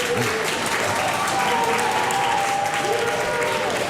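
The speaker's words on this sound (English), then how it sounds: "We can hear the crew at NASA cheering, of course." Cheering and applause from a NASA crew after a Falcon stage separation: a steady wash of clapping and crowd noise, with faint tones and voices mixed in throughout.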